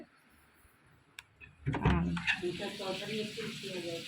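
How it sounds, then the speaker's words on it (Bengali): Banana flower curry and bitter gourd fry in a pan, a steady close sizzle that rises sharply after a quiet start, with a few stirring knocks and a voice talking over the frying. "মোচার তরকারি আর উচ্ছে ভাজা হচ্ছে এখন।"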